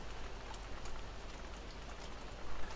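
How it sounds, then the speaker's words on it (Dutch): Rain falls in the Farming Simulator 17 game on the Nordfriesische Marsch map, a steady, close hiss of raindrops on surfaces with no one speaking. "En het regent."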